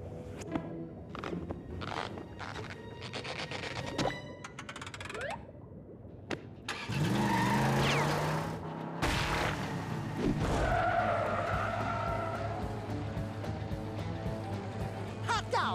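SpongeBob SquarePants: Creature from the Krusty Krab, racing level: a steady car engine drone with tire skids and a crash-like burst, under narrating speech and game music.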